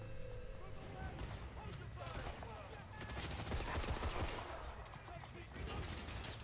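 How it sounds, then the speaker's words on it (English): Gunfight in the video game 007 First Light, with bursts of gunfire and crashing impacts under a busy mix of game sound and a person talking over it. "This is our first gunfight."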